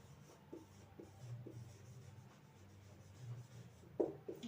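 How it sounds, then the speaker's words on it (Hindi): A pen scratches across paper while an accountancy lesson is written out, giving soft, faint strokes in short repeated bursts with a slightly louder scrape near the end. "यहाँ लिखेंगे"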